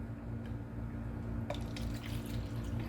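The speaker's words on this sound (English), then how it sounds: "fill it up with water" A cup for a coffee maker fills with water from a tap, giving a steady running flow with a few light splashes that brighten partway through. The pour is close and heard on its own, with no talk.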